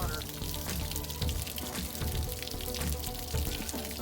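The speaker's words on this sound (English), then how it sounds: "Still draining the hot water." Hot water drains from an RV water heater in a steady, hissing, splashing flow, constant and close, with faint knocks now and then.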